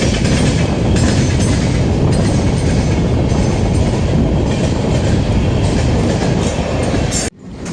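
A Puri–Tirupati passenger train rolls into Anaparthi station with a loud, continuous close rumble and rattle of wheels and carriages that cuts off abruptly near the end.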